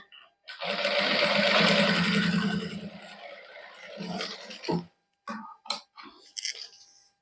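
A sewing machine stitching a fabric neckline with buckram interfacing, a loud continuous motor whir for a few seconds that slows and stops, followed by short bursts and handling clicks.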